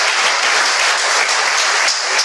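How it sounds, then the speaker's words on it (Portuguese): A church congregation bursts into loud, close, continuous clapping during a Portuguese-language sermon, a dense burst of hand claps lasting a couple of seconds. "Você pode aplaudir ao Senhor por isso?"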